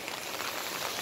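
Steady rain falls in Qatar in a rare unbroken downpour, a continuous broadband hiss of drops striking surfaces, close and even throughout with no voices.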